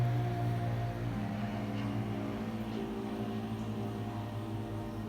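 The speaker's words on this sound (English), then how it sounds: "I apologize if you can hear planes in the background." Low droning engine rumble of an aircraft passing overhead, steady and fairly loud at first, then slowly easing, with no talking.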